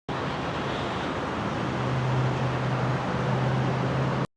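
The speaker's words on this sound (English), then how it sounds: "And some really nice city ambient sounds." City ambience with a steady, continuous roar of road traffic, broadband and fairly loud throughout, with a low engine hum swelling midway and no voices.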